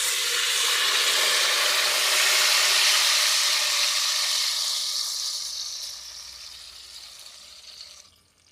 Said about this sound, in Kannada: ಎಣ್ಣೆ ಕಾಯಿಲೆ ಈಗ ರುಬ್ಬಿ ಇಟ್ಟಿದ್ದು ಹಿಟ್ಟನ್ನು ಹಾಕ್ತೀನಿ ಇದಕ್ಕೆ.